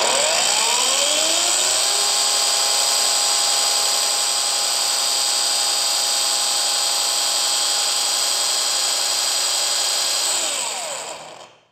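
A cordless power tool running on an Ingco battery spins up during a speed test, holds a loud, steady high-pitched whine for about ten seconds, then winds down and stops.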